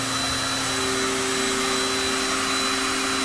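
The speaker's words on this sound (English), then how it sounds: "I've got to turn my vacuum system on." A CNC router's vacuum dust collection system runs with a steady, loud, continuous whoosh and a constant motor hum, close by and unbroken throughout.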